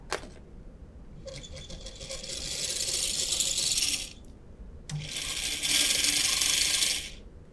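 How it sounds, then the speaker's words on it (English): A screw drops into a small bucket on a series DC motor torque test rig, a sharp metallic clink followed by two bursts of bright whirring mechanical noise as the motor spins up, close and alone. "We'll proceed with one screw in the bucket."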